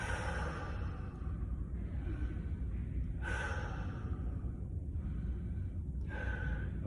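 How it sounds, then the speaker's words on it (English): Close, heavy breaths follow a weightlifting set: a long inhale and exhale, then two more sharp gasping intakes spaced a few seconds apart over a steady room rumble. "Taking a big cleansing breath."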